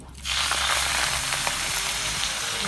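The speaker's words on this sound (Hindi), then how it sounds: "1 कप सूजी है, उसमें हम डालेंगे 2 कप दूध।" Milk poured into hot caramelized sugar in a pan for a semolina, paneer and khoya halwa bursts into a loud, steady sizzle that starts abruptly and continues close up.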